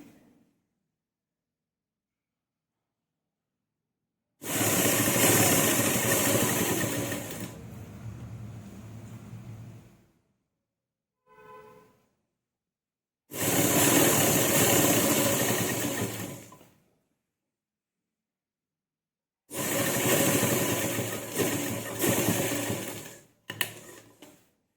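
A sewing machine stitching a strip onto a garment neckline runs in three loud, close bursts of rapid whirring stitches, each lasting a few seconds, with silent pauses between them and a brief faint mechanical click in one gap.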